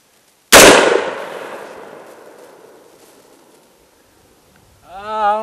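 A single sharp gunshot from a 10.5-inch AR pistol firing 55 grain M193 ball ammunition, loud and close outdoors, with a long fading echo, followed by a brief voice at the end.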